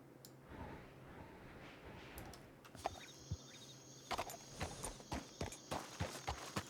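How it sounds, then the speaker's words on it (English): Horse hooves in Red Dead Redemption 2, a run of regular clip-clop beats growing steadier and clearer in the second half, moderately close over low ambient game noise. "I just heard a hoof beat down to my right."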